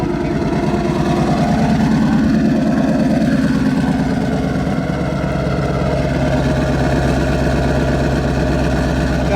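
A 2019 Mustang GT twin turbo V8 with Corsa Extreme active exhaust idles steadily up close, a deep, even rumble with a slightly lumpy pulse that holds throughout.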